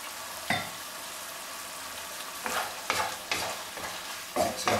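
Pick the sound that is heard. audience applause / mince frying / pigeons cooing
mince frying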